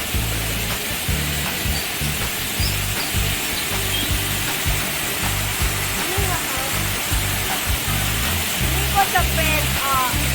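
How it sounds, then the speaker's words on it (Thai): A garden waterfall gives off a loud, steady, broad rush of falling water. It stays close and constant throughout, with a few brief chirps near the end. "น้ำตกนะครับ"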